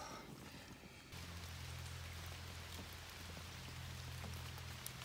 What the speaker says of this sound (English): It's been raining since about 8 o'clock last night. It's been non-stop.